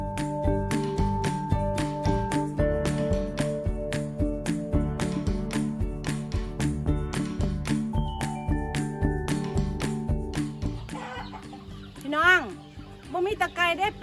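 Farm chickens cluck in short calls near the end, over a steady background of rhythmic music with sustained tones and regular beats throughout.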